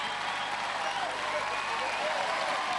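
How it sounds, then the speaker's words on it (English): A studio audience at a televised Gladiators competition heat, 1998, applauds in a soft, steady wash of clapping that lasts a few seconds. "Fred Flintstone generous with his applause."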